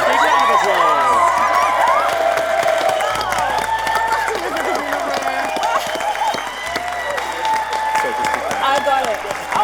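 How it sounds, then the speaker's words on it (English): Startup pitch show audience applauding and cheering a winner, a dense wash of clapping mixed with shouts and excited voices, steady and loud throughout with music underneath. "Big round of applause."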